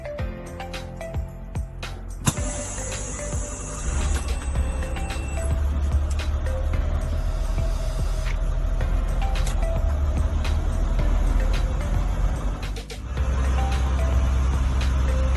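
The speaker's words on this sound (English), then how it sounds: "Once my needle stabilizes, once it goes forward and backwards and stop, then I will start my vehicle." A school bus engine starts during a CDL pre-trip inspection: a few clicks and a whine, then a low, steady idling rumble that swells and holds, briefly dips, then returns close by.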